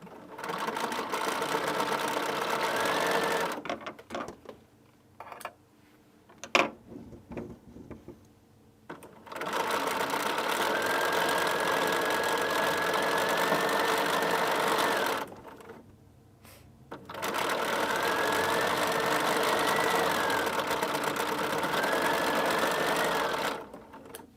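A sewing machine stitches a quilt seam for a scrappy, strippy chevron quilt in long, steady whirring runs, stopping briefly between passes, with quiet handling noises in the pauses.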